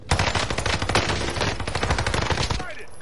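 Rapid automatic gunfire in a video game, dense bursts of loud cracking shots packed together for a few seconds before tapering off, with voices faintly underneath.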